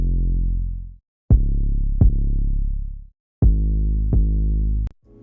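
A deep 808 sub bass plays together with a punchy kick drum in a sparse rhythm, each thumping hit followed by a long, humming low tone that fades out, with short gaps between.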